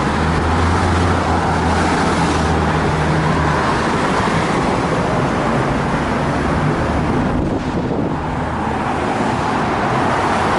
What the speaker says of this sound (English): This traffic's moving pretty good.